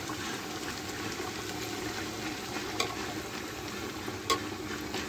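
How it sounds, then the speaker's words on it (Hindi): Masala being stir-fried (bhuna) in a pan, a steady close sizzle and frying hiss with stirring, and two short sharp scrapes or clinks partway through. "अब इसको अच्छी तरह भून लो"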